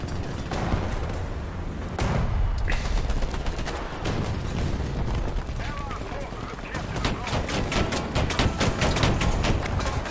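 Dense gunfire and ammunition detonation from a tank video game, loud and sustained, with rapid sharp cracks and booms stacked over each other for the whole stretch, a commentator's voice faint beneath.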